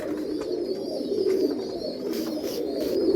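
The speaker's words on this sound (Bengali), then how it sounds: "ফুলশিরা পায়রা" Low, steady cooing from a male Andhra Fulsira pigeon, ring number 1740, repeating its murmuring call near the listener over a continuous hum.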